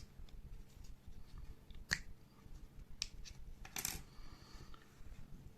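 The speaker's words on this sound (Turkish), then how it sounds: "bu GPS cihazının şu şekilde kapağına bastırarak açıyorum" A GPS vehicle tracker's plastic cover is pressed and popped open, producing sharp little clicks and snaps, with a louder crack near the middle followed by a brief scraping rattle, close by and quiet.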